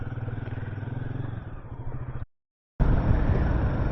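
Engine of a brand-new Royal Enfield Guerrilla 450 motorcycle on an empty road, a steady loud pulsing drone with rushing wind that cuts out abruptly for about half a second, then returns just as strong.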